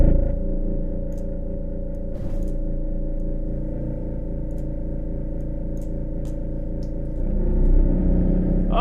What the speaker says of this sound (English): Now we got a nice, beautiful reverb below there.